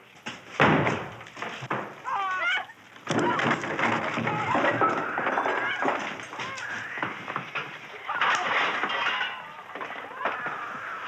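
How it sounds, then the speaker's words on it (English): A door is broken down in a 1978 wartime drama scene, with heavy slams and thuds standing out near the start, amid shouting voices and scuffling movement. "Go, break the door."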